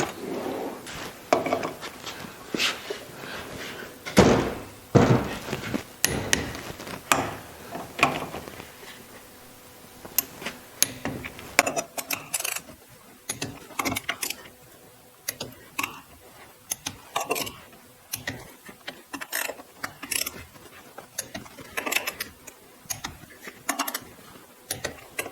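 Torque wrench tightening differential bolts on an early Porsche 901 transaxle during a rebuild, giving a series of sharp ratcheting clicks and metallic clanks in irregular bursts throughout, close and fairly loud.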